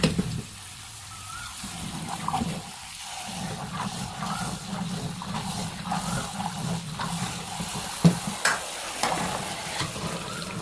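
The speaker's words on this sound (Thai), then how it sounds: "แล้วก่อนนำไปทำเนี่ยแนนจะนำไปล้าง ในน้ำสะอาดหลาย ๆ น้ำนะคะ" Soaked chickpeas are swished and stirred by hand in a bowl of clean water, giving a steady, close wet churning and sloshing that runs throughout with occasional small splashes and no voices.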